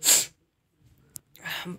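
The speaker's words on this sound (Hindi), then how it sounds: "तो फिर मुझे छींक आ गई थी तो मैंने बीच में रोक दिया था इसको थोड़ा सा" A single loud human sneeze up close, a sharp burst followed by a pause, a small click and some breathy sound after.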